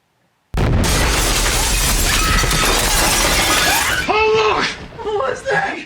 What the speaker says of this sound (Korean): 유리창이 깨지고 땅이 흔들릴 정도로 엄청난 폭발음이 들려오고